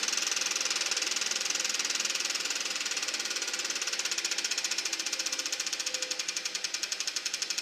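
Fuel pump running on a VW gas heater, a fast, even mechanical ticking that carries on steadily and close by, with a brief faint tone partway through.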